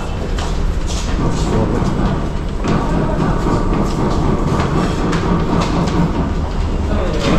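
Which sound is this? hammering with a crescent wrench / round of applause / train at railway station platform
train at railway station platform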